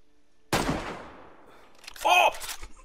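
A single loud sniper rifle shot in a shooting video game, with a sharp crack that decays into a long rolling echo, followed by a brief clanking reload or bolt sound.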